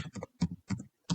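Typing on a computer keyboard, heard as a few quiet, close clusters of key clicks separated by short pauses, with no other sound around them.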